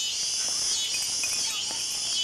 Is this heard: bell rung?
no